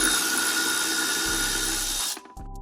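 Power tool driving a 10mm socket to remove motor wires on an EZGO RXV golf cart, a steady loud whir that runs continuously and then cuts off abruptly near the end.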